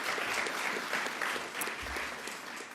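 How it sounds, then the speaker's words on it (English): An audience at a Long Island event for Governor Kathy Hochul claps in a sustained round of applause, dense and even throughout, with no talk over it. "another round of applause for the governor"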